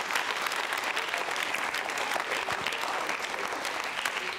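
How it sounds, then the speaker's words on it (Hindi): Dense, steady applause from an audience at a university quiz show on consumer protection, loud and unbroken for the whole stretch with no gaps. "तालियां बजा लो भाई।"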